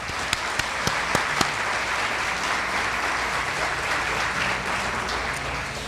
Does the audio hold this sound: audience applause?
yes